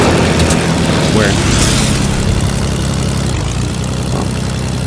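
Airplane propeller engine in Fortnite, a loud continuous droning buzz that holds steady with a slight shift midway, close by and dominating.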